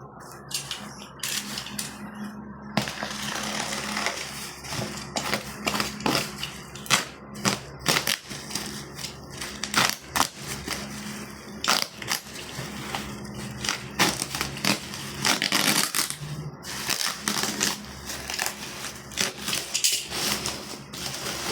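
Cardboard and plastic packaging crackle and crinkle continuously as the box of an INGCO self-leveling laser is opened, close-up with irregular sharp crunches throughout.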